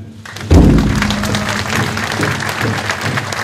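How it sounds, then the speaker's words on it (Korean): Crowd applause and cheering at a political party founding rally, bursting in loudly with a thump and then sustained as dense clapping across the hall, with an announcer's voice faintly beneath. "여러분 다시 한번 힘찬 함성과 박수, 뜨거운 박수 보내주십시오"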